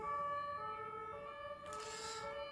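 A fire engine siren sounds loud and steady throughout, its tones holding constant with a brief broadband swell of passing traffic noise near the end; no one speaks.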